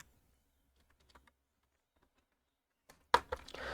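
The word Osako is typed on a computer keyboard while designing a logo in Inkscape: quiet scattered clicks, then a brief burst of a few crisp, close keystrokes near the end in an otherwise silent room.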